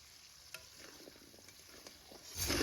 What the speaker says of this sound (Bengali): এখন আরো অল্প সময় ভেজে নিব।